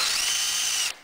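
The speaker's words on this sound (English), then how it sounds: "I put this sacrificial tap in my variable speed drill" A variable speed power drill spinning a tap to clean bolt threads on a 2004 Pontiac Vibe whirs at high speed with a steady whine for about a second, then stops abruptly.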